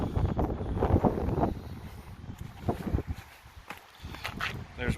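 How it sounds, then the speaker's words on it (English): Gusty wind buffets a microphone outdoors during work on the rear hub bushings of an L322 Range Rover, producing heavy low rumbling blasts that rise and fall, with brief lulls between gusts. "Sorry about the wind, it came out of nowhere."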